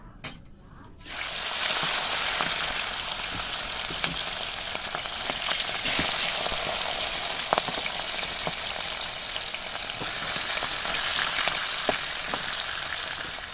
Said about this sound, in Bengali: তাহলে এবার মাথাগুলোকে আমি ভেজে নেব এক এক করে